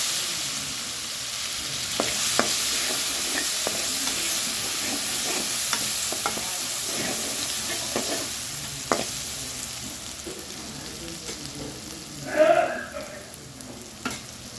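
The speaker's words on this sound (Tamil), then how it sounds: "அதே எண்ணெயில் பெருஞ்சீரகம் கொஞ்சம் சேர்த்துருக்காங்க, இஞ்சி பூண்டு சேர்த்துருக்காங்க" Fennel seeds, ginger and garlic frying in oil for egg chilli, a steady bright sizzle close up with scattered light pops and stirring scrapes, a louder crackling burst near the end, no talking.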